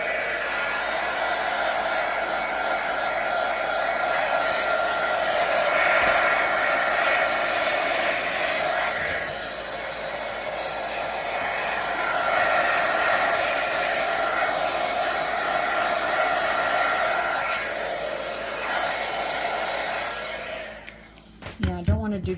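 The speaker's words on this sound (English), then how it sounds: "And I could do my heat gun, which I might." A heat gun blows steadily from high above a resin-filled mold with flower petals, a loud, continuous airy hiss that swells slightly and then cuts off abruptly at the end.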